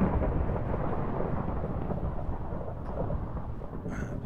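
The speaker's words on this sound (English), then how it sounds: "I'm gonna get hit by freaking lightning." In the video game Minecraft, a lightning strike produces a deep, continuous rumble of thunder that rolls loudly throughout, with rain hissing beneath it and no speech.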